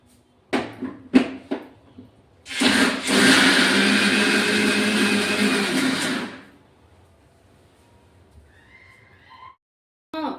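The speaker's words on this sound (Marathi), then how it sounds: "आता आपण असं अजून एक भांड होणार आहे ते मिक्सरला लावून घेऊ" A kitchen mixer grinder blends soaked dal into batter, whirring loudly and steadily for about four seconds after a few knocks of the jar being set in place, then cutting off into near silence.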